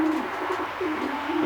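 A young racing pigeon coos in a low, rolling rhythm, its soft throaty calls repeating every half second or so, close and steady with no talking.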